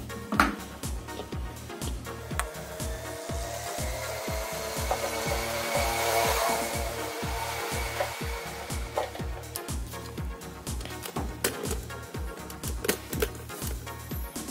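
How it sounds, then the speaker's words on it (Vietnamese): A coconut shell being cut with a hand saw, steady rhythmic rasping strokes, about two per second, close and fairly loud throughout with no talking. "bây giờ mình sẽ cưa nha"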